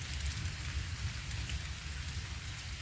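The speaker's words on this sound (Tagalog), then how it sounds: "Nako, umaambon guys." Light rain drizzles outdoors near a river, a faint, steady patter of fine drops with a low background rumble and no talking.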